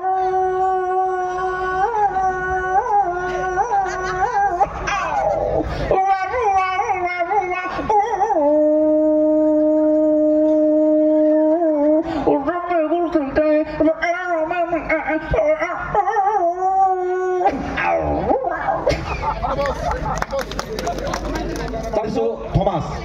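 A performer's voice imitates a puppy singing a song, with whimpering, yipping howls rising and falling in a tuneful line. Long held notes alternate with choppy yelps, and a crowd murmurs faintly behind.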